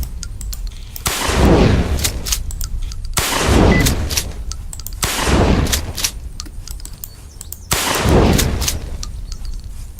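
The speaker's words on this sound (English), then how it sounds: "See how many things we can take out with the Dragon's Breath now that we're at it" Shotgun blasts of Dragon's Breath incendiary rounds, four heavy booms roughly two seconds apart, each followed by a long roaring whoosh that fades, with faint clicking between shots.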